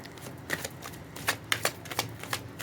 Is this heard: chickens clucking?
no